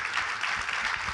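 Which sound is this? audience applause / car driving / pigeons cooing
audience applause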